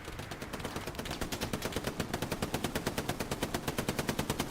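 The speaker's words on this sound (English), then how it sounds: "MG Mike living up to the name, laying hate with that Browning." Browning machine gun in the WWII shooter Hell Let Loose hammers out a long, steady automatic burst, rapid evenly spaced shots building in loudness and continuing without a break, close and dominant.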